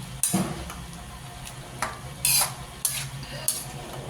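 Ground pork and vegetables stirred in a sizzling frying pan, with a soft steady sizzle broken by several sharp scraping strokes of a spatula against the pan, close and clear with no talking.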